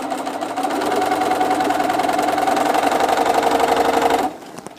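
A sewing machine running steadily as it stitches a ruffle sleeve, a loud, fast, even mechanical whir for about four seconds before stopping abruptly, leaving a quiet tail.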